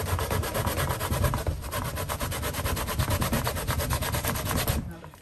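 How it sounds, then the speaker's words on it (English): Sweet cassava root rubbed steadily against a metal grater, a fast, even rasping scrape repeating in quick strokes throughout, close and loud, briefly pausing near the end. "I'm gonna grate over here"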